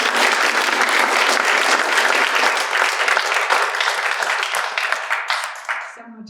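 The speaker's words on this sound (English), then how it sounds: "I'd like everyone to please give a round of applause." Sustained audience applause at a science panel event, dense steady clapping from a large crowd that holds loud for about five seconds before tapering off at the end.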